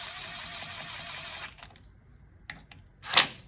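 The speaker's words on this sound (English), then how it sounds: "Put the all new bolts for the primary cover. And I'm gonna go ahead and start just snugging them down." Bolts on the primary cover of an Indian motorcycle are snugged down with a tool, a few faint close clicks and metallic ratchet ticks after a steady whine fades out.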